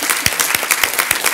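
An audience at a Friday Forum gives Sheila another round of applause, a brief burst of close, loud group clapping with a few distinct sharp claps punctuating the wash.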